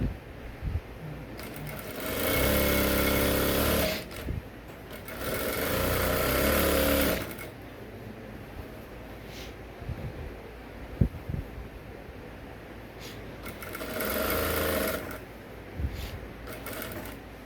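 A sewing machine stitches an Ankara top in three loud bursts, two back to back and a later shorter one, separated by quieter stretches of handling and faint clatter.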